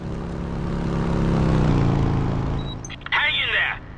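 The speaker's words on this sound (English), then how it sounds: "There's a plane coming!" A propeller plane in Just Cause 2 drones closer, its engine hum swelling steadily for a couple of seconds before fading, followed by a sharp clatter and a brief voice near the end.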